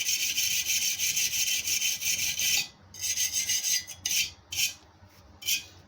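A rotary burr grinds the welded cooling fins of a BSA Bantam motorcycle cylinder barrel, a harsh high rasping in a steady stretch followed by several short, separated strokes.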